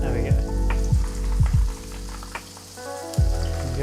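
Soft vegan sausages fry in a pan with a close, continuous sizzle, broken by a few short thuds and sliding knocks as they are moved about, over a low tonal background.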